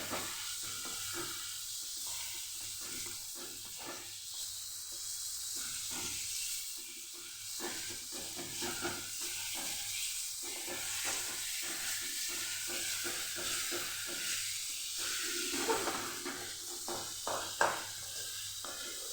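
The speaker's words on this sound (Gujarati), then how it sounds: "જેમ જેમ શેકાતા જશે એમ આપણે તવીથાથી દબાવતા જવાનું અને એનું ક્રશ કરતું જવાનું" Chikoo roasting in a pan on the stove, pressed and mashed with a spatula: a steady broadband sizzle and hiss runs throughout, broken by soft scraping and pressing strokes, close and moderately loud, with no talking.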